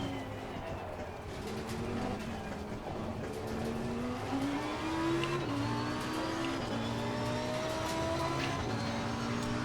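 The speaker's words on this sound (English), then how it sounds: "Accelerating out of the last chicane" Super Trofeo race car in Assetto Corsa Competizione accelerating out of a chicane, its engine note climbing in steady rising sweeps through the gears, close and continuous, with faint talk underneath.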